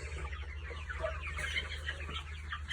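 A flock of 28-day-old broiler chickens clucks and murmurs steadily over a low hum, many soft overlapping calls at close to middle distance.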